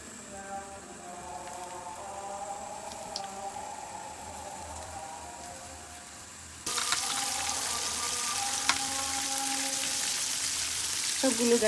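Loitta (Bombay duck) fish, coated in cornflour and flour, frying in hot oil Cox's Bazar style, with a steady sizzle that turns louder and fuller partway through as more pieces go in, with light stirring clatter.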